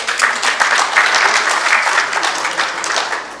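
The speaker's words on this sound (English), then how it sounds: "I think we should give everybody a round of applause for that" An audience at a marketplace event breaks into sustained, dense applause, a loud and even wash of many hands clapping that tapers off slightly at the end.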